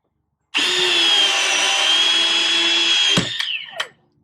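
Ryobi P593 battery-powered PEX and PVC cutter slicing through 2-inch PVC pipe, a steady loud motorized whine running about three seconds before winding down with a couple of sharp clicks as the blade finishes and stops.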